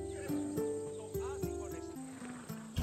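A Macedonian battle horse in the video game Assassin's Creed Odyssey whinnies with a rising and falling neigh, close and clear, with snorts and some thumps mixed in.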